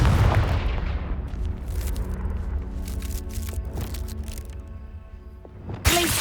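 A Confringo blasting curse explodes in Hogwarts Legacy: a loud, close boom that opens the clip and rumbles away, followed near the end by a sharp crack.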